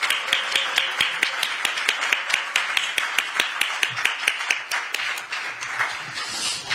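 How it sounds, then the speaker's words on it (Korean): An audience at a Democratic Party event applauds, a dense run of sharp overlapping claps that holds steady for several seconds before thinning slightly toward the end, with no voices over it. "힘찬 박수로 맞아주시기 바랍니다"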